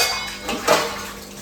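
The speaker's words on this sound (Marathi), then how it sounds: "इकडे मी घेतलेले आहेत भांडी घासायला." Dishes and pots being washed, with a brief cluster of metallic clinks and clatter over running water, close and short.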